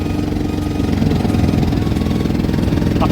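A boat's motor runs on a narrowing river, giving a loud, steady droning rumble with an even, low pulse that continues without a break.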